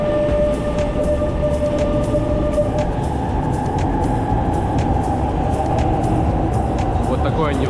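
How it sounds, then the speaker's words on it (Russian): A metro train in Milan rumbles steadily with a constant low roar, a brief tonal whine and rattling clicks, while voices talk faintly in the background. "Вот такое невзрачное метро."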